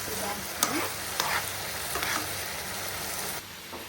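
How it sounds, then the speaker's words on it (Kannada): Paneer roll filling fries hard in an oiled pan and is stirred vigorously. A steady hiss of sizzling runs throughout, with a few clacks of the spatula against the pan, close up and at moderate loudness. "ಈಗ ಇದನ್ನು ಈ ಥರ ಫ್ರೈ ಮಾಡ್ಕೊಳ್ಳೋಣ ಜೋರಾಗಿ"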